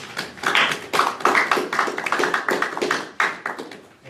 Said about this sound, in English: I would like to have a round of applause for the town board members that were elected, re-elected last Tuesday